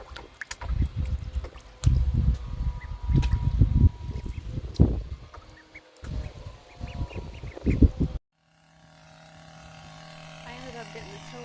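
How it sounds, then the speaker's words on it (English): Ducks on a farm give repeated, close quacks in irregular bursts with some splashing, while people talk nearby; the noise drops away toward the end, leaving a quieter background. "curved ducktails are males and straights are females."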